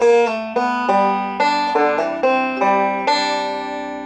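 Bright, plucked banjo notes rolling in a quick, steady bluegrass rhythm, a measure of a Scruggs-style break, close and clear, with no voices.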